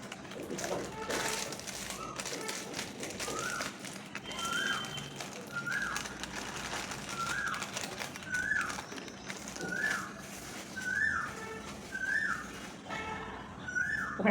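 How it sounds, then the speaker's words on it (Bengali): An Asian koel calls repeatedly in the distance, a rising whistled note about every second and a half, around ten times in a steady series over a faint outdoor background. "কোকিল ডাকছে, শুনতে পাচ্ছ তোমরা?"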